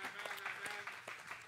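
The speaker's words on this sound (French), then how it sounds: "Clap your hands for the prophet" Church congregation clapping hands for the prophet during a sermon, a short burst of dense, steady applause filling the room.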